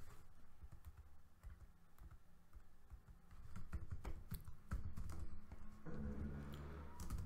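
Rapid clicking of a computer keyboard as code is typed, close and fairly quiet, with irregular bursts of keystrokes over a low background hum.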